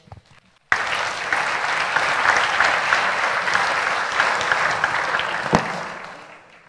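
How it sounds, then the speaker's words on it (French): Audience at a health conference debate applauding the panelists and moderator, clapping starting abruptly after a brief quiet moment, sustained and fairly full, then fading out near the end. "donc on peut aussi les applaudir"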